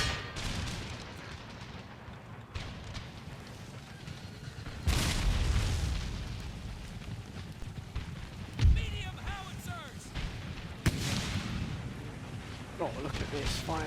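Artillery fire support during an Empire: Total War battle, with heavy booms landing at intervals over a continuous rumbling battlefield din, several sharp blasts standing out, and a voice talking faintly beneath.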